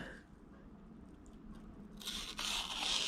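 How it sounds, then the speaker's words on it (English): CJRB Briar folding knife blade slicing through paper, a faint quiet room giving way to a brighter, steady hissing rasp of the cut that grows louder over the final second, with no talking. "it's cutting through paper without any trouble at all"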